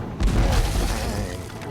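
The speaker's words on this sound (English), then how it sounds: "Maybe the cannons can finish them off." Cannon shots striking castle walls in the strategy video game Dreadnought: a heavy, booming impact arrives abruptly and rolls on as a thick rumble with scattered bursts, close and loud, with no speech.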